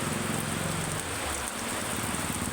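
Heavy rain falls on a roof in a flooding neighborhood, a dense, continuous hiss of drops close by with no voices.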